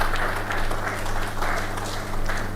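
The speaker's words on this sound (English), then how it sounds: "Let's give them a round of applause again." Audience applauding at an award presentation during an agricultural presidents' summit, steady dense clapping filling the whole stretch, moderately loud and continuous.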